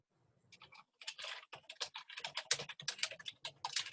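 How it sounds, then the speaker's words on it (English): Fast, uneven typing on a computer keyboard during a board meeting, dense clusters of crisp key clicks close by, with brief pauses between bursts and no voices. "I'm just typing it in"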